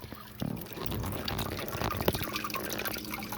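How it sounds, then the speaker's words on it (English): Water drips and trickles steadily through a fish room aquarium system, a busy layered patter of running and splashing liquid with a few sharper drops, close and continuous with a faint voice in the background. "I get all that great dripping water and all that activity underneath there, all the sound and everything."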